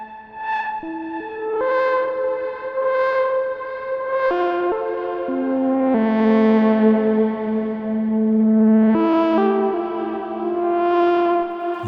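A synthesizer noise patch run through a delay effect plays sustained, shifting tones with echoing repeats that swell and fade, steady and fairly loud with no voices.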